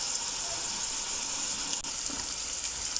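Minced meat frying steadily in a pan with barbecue spice, crushed chili and mixed masala, a dense, continuous sizzle and crackle held at an even level throughout, close and with no talk.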